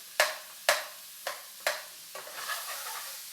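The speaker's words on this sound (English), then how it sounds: "So just that's sizzling really nice." Sharp stirring scrapes hit a sizzling pan of caramelising onions and peppers several times, with a steady fry hissing underneath.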